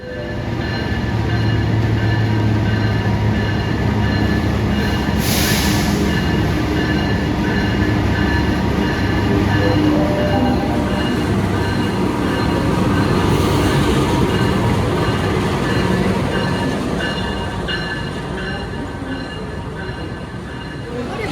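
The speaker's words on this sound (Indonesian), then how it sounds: "Rangkaian kereta api Turangga baru masuk jalur 6 ya." A passenger train arrives at a station, rumbling steadily close by for about twenty seconds, wheels rolling and faint squeals, with a constant heavy mechanical roar that eases slightly near the end.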